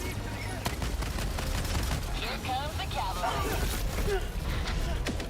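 Rocket pods firing in the Helldivers 2 video game, heard as rapid loud bursts of explosive fire over constant battle noise. Voices talk throughout.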